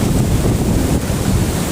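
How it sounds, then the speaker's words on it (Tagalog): Loud ocean waves pound the shore at Patar Beach in Bolinao, Pangasinan, a constant roar of surf mixed with heavy wind buffeting close to the microphone. "Sobrang ang lakas po ng hampas po ng alon."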